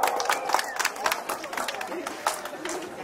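A boxing event audience in Santa Cruz applauds a prize winner, scattered crowd clapping and cheering beneath an announcer's voice, moderately loud, with crowd chatter through the whole stretch.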